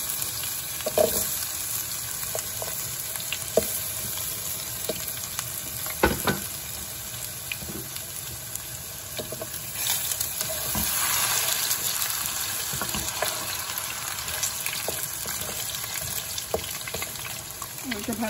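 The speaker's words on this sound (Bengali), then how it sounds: "আলুগুলো ভাজতে দিই" Potatoes fry in hot oil with blackened chilli and browned cumin, a continuous close sizzle broken by scraping stirs and occasional clatters, with brief talk in places.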